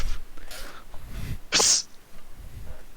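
A person fakes a single loud, sharp sneeze in a room, mimicking the real thing with a burst of breath at its peak, surrounded by quiet background chatter.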